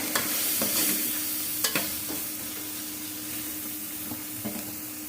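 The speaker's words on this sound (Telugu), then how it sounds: "మసాలా పొట్లు గరం మసాలా ధనియా పౌడరు బ్లాక్ పెప్పర్ పౌడర్ ఇవన్నీ వేసి ఒకసారి ఫ్రై చేద్దాం" Garam masala, coriander powder and black pepper powder frying in a pan for leftover-rice egg rice. A soft, steady sizzle runs under occasional spoon scrapes and taps, close and fairly quiet, with no talking.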